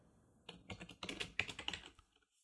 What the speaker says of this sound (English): So I'll type in here my card